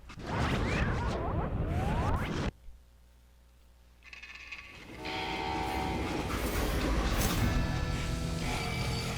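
A freight train in the video game Call of Juarez: Gunslinger rumbles loudly, cuts to a brief quiet lull, then returns with clanking wheels, screeching metal and a horn-like tone over the rolling din.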